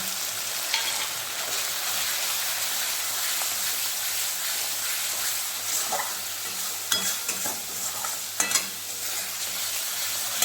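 A masala gravy sizzles loudly and continuously in a pan, a dense hiss like rain, with occasional scrapes and knocks of a spoon stirring it, close by.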